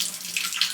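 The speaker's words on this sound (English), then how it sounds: "the water won't stop running" Water runs from a tap in a hotel room, a brief, steady hiss of flowing water close by with no voices.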